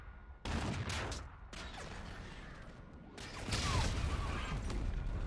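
Gunfire from a Call of Duty: Infinite Warfare match crackles in loud, dense bursts, with sustained volleys and sharp impacts running through nearly the whole stretch and growing heavier toward the end.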